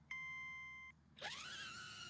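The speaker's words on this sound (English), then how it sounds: "And you hear a countdown beep." Countdown beep from a HOVERAir X1 PROMAX drone: a single steady electronic tone lasting nearly a second, followed by a rising whirring as the motors spin up.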